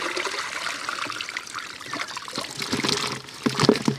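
Water pours and splashes steadily into a pot at close range, with a few brief knocks toward the end.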